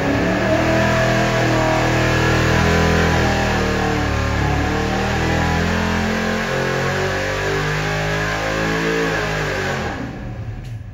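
A small-block Ford engine on a dyno test, fitted with a two-cam setup, revs hard and loud in a sustained climbing roar. It holds near full throttle for about ten seconds before beginning to drop away.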